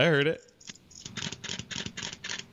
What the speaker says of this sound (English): it's not a real shutter sound, though, right?